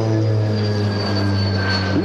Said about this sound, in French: on met la manette des gaz en avant et immédiatement l'hélice va délivrer la puissance dont on a besoin.